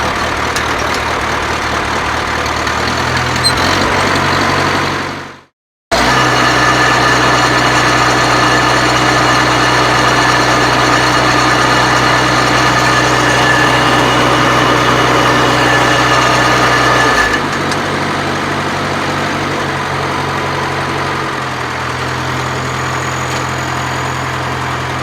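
A 1948 IH Farmall Cub tractor with a leaky carburetor idles steadily and loudly up close, cutting out for a moment before restarting and running on, with slight shifts in pitch later.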